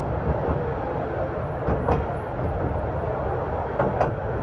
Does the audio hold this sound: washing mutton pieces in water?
no